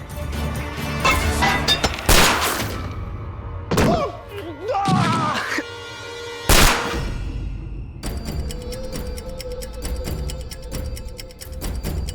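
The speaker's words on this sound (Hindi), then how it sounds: "अब तो ये गन बोलेगी अखिल।" Gunshots ring out in a Hindi film scene, with several heavy, booming reports spaced apart, mixed with thuds and dramatic score, while people speak between the blasts.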